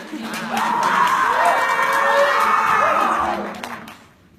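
Children at an Elkhart school event with Miss Kansas cheer and shout for a classmate, a loud crowd of young voices swelling after a brief pause, holding steady for several seconds, then fading out.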